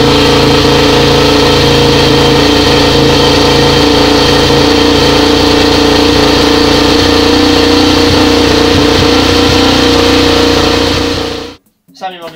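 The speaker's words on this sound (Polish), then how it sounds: "energicznym kopnięciem odpalamy motocykl." A Yamaha YZ400F four-stroke dirt bike engine runs loud and close, with a steady, throbbing idle that holds for about eleven seconds before it cuts off abruptly.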